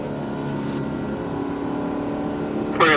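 Turbo four-cylinder of a stock 2017 Chevrolet Camaro Turbo 2LT pulls hard under throttle on the Spring Mountain Motorsports Ranch track, a steady rising drone heard from inside, swelling sharply near the end.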